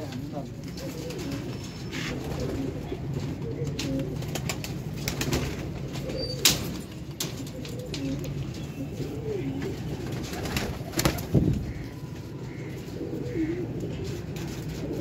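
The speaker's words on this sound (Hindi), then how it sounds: "6 नंबर ते है वैशी एक कबूतर" Pigeons for sale in a loft, including a rare breed, coo softly in a low rolling murmur, with occasional bursts of wing flapping close by and someone talking intermittently over them.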